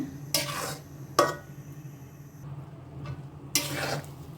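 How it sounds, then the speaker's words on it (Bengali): Panch phoron and cumin seeds fry in hot oil for a garlic and olive pickle, with a steady low sizzle broken by a few loud bursts of stirring and scraping against the pan. "আমি এখানে একটু পাঁচফোড়ন আর জিরা ভেজে নিচ্ছি"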